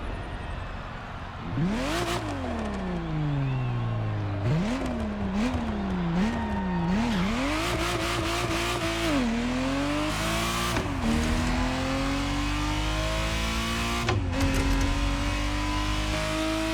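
Ferrari Testarossa flat-twelve engine in The Crew Motorfest racing game, loud and close, revving up through repeated gear shifts with rising and falling pitch, then holding a steady high drone, with brief tire noise.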